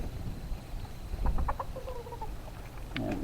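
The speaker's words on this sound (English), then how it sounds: "Fixing to herd some chickens here." Backyard chickens clucking in short, scattered calls at close range, with a brief louder flurry midway and a few higher squawks near the end over a low outdoor rumble; no one speaks.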